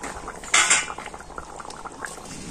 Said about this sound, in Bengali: মাছের ডিমগুলোকে আরও একটু 5 মিনিট ফুটিয়ে নেবো তরকারিটা।